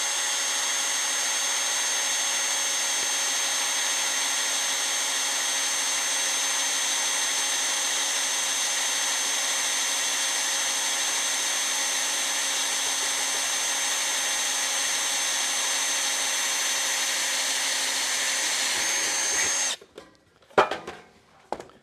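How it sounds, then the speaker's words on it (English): A sheet metal drawer is riveted onto a tool tray: a loud, steady whine of a power tool runs near and unbroken for about twenty seconds, then cuts off into a few short clanks and snaps. "we're going to put a rivet into that"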